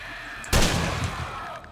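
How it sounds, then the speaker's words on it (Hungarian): A single sharp gunshot from the zombie survival game 7 Days to Die cracks out loud and close, then trails off in a booming, echoing decay. "Kettőt egy lövés, beszarsz."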